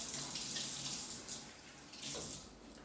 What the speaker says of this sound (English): wash my hands one last time with soap